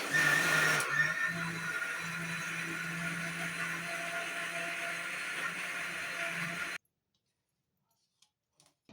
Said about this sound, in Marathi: ह्याच्यात आता पाणी टाकून चांगलं वाटून बारीक वाटण करून घेणार आहे